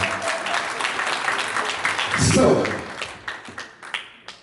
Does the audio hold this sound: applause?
yes